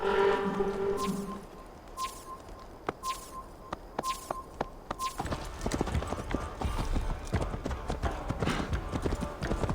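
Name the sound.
horse hooves clip-clopping in a video game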